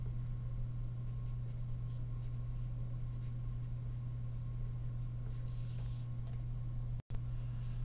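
A pencil scratches across paper in quiet, uneven strokes, close and faint over a constant low electrical hum, with a short dropout near the end.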